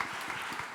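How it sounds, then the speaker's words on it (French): Brief burst of audience applause for Pauline at a French housing policy presentation, a short patter of clapping that sounds steady and moderately quiet throughout. "Vous pouvez l'applaudir."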